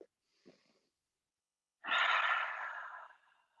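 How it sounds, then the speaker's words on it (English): A slow, deliberate breath exhaled through the mouth during a guided yoga session, soft and airy, drawn out for about two seconds after faint breathing noises, with no talking. "exhale through the mouth"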